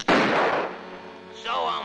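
A single loud cartoon gunshot from a 1945 Looney Tunes short with Bugs Bunny and Elmer Fudd, a sharp bang that trails off into a ringing tail.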